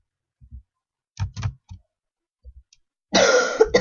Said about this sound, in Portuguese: Desculpa de novo aí pela tosse minha.